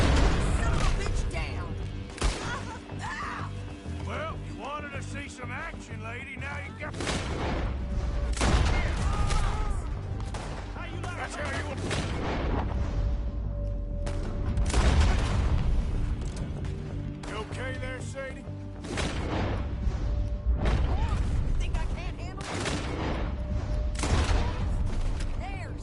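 Gunfire in Red Dead Redemption 2 crackles through a mixed scene, with sharp shots and booming blasts scattered over about twenty-five seconds, spread across a steady bed of game sound and voices talking.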